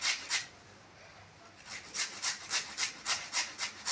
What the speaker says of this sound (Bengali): আর এই একটা আলু আছে ঘষতে, এই আলুটাকে আমি ঘষে নেব